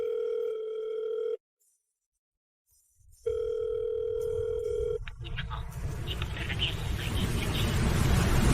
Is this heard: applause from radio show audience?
no